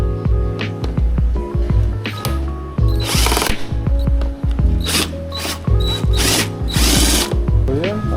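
A power tool whirs and ratchets in short, loud, close bursts while backing out two fairing screws by the pillion seat of a 450SR motorcycle, with a few sharper zipping spins between pauses.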